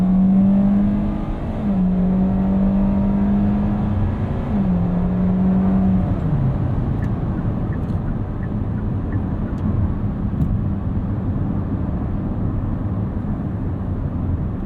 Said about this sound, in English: Let's do an acceleration here.